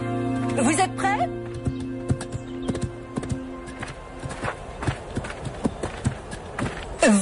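Horses' hooves clip-clop in an irregular walking rhythm, close by, while people talk over them and a horse snorts or whinnies near the start.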